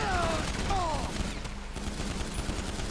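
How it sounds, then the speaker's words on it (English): Enemy gunfire in GTA 5, a dense rolling fusillade of shots that runs through the whole stretch under a steady wash of game noise, with short rising tones early on. "They're still firing at me."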